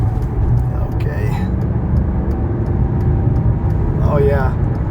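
A 1999 Mercedes S500 Grand Edition accelerates hard on a highway, a steady engine and road roar from inside the car with brief voices over it partway through.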